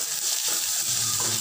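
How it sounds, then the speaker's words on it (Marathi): Finely chopped coriander roasts in hot oil with onion, green chilli and curry leaves, a brief steady sizzle with soft stirring rustles. "आता ही कोथिंबीरही छान अशी बारीक केलेली तेलात भाजून घ्यायची"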